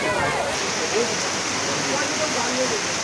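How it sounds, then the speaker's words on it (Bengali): Heavy rain pours down in Alamdanga during a long-awaited downpour, a dense, steady broadband hiss of water that fills the whole clip without pause. "দেখুন বৃষ্টির পরিমাণ আস্তে আস্তে বেড়েই চলেছে"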